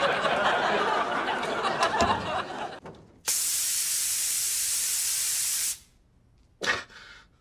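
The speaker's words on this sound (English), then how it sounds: "When the spraying stops, count to five." A spray tan booth in a tanning salon releasing a loud, steady hiss of spray for about two seconds that then cuts off abruptly, followed by a short second burst; a laugh-track style crowd chuckle plays before it.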